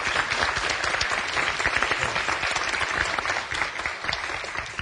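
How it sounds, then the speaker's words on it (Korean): Steady audience applause fills a Korean talk-show lecture hall, dense and continuous throughout with no voices over it. "이것도 박수 한번 드릴게요"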